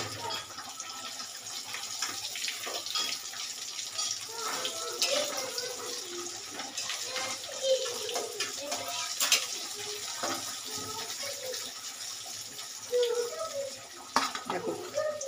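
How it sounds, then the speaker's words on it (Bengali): Kofta balls fry in hot oil, a steady close sizzle with bubbling and crackling bursts throughout, while a person talks over it. "সব বলগুলো আমি এইভাবে ভেজে নেবো আস্তে আস্তে করে।"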